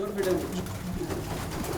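Pigeon cooing close by at a pigeon keeper's loft, a short low throaty coo or two over faint background chatter.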